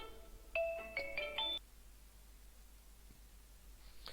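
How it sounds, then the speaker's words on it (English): A telephone rings indoors with a short electronic ringtone melody of bright, stepped beeps lasting about a second, then cuts off into quiet room hiss. "just a phone call"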